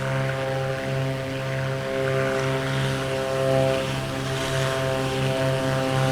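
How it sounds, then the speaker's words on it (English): Twin propeller engines of a Black Square Baron drone steadily in flight in the MSFS 2024 simulator, a loud continuous hum with a strong low tone and gently pulsing beat, heard from outside the aircraft with no talking. "you'll really hear the sound of those beautiful twin engines"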